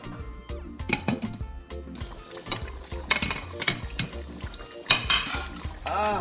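A pot of Asaro yam porridge on a stovetop gets its lid set on, giving a run of sharp metallic clanks and scraping clatters, close and fairly loud, with no talking.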